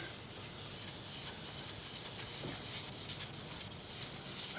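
Abrasive paper rubs steadily against butternut wood spinning on a lathe, a continuous close hissing scrape with no pauses while sanding runs up through 400 grit.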